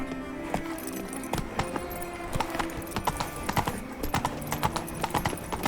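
Roach, the horse in The Witcher 3: Blood and Wine, runs at speed. Sharp, close hoofbeats pound in a fast, regular rhythm with a faint jangle of tack alongside.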